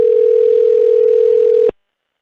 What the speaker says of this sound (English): I guess it's hard to do with the dial tone